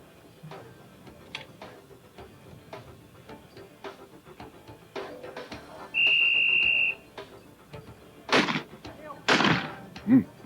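Two sharp side-by-side shotgun blasts ring out close together near the end, fired by a left-handed Australian shooter at a rabbit target during a 1999 world championship, after scattered clicks and a brief steady tone.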